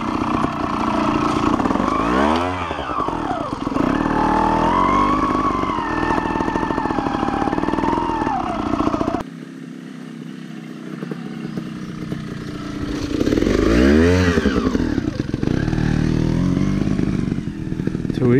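An enduro motorcycle engine runs loud and close, revving up and down in rising and falling sweeps, easing to a lower drone midway before climbing again, with voices heard now and then.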